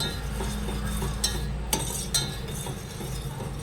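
A utensil stirs sugar in a pan over a gas stove, giving soft scraping with a few light metallic clinks against the pan over a steady low burner hum.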